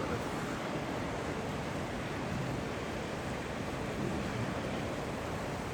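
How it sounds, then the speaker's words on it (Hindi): Strong wind gusting across an open valley at Sonmarg, Kashmir under dark clouds, a steady broadband roar that buffets the microphone without a break, moderately loud and with no voices. "देखो, बहुत तेज हवाएं चल रही है."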